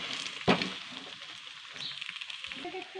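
Egg dosa frying in a pan seasoned with garam masala and coriander, giving a steady soft sizzle throughout, with one sharp clatter near the start and a voice speaking faintly underneath.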